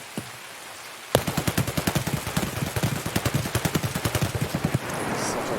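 Rapid automatic gunfire rattles out in a sustained burst lasting several seconds in the Escape From Tarkov video game, loud and close, then gives way to a steady ambient hiss.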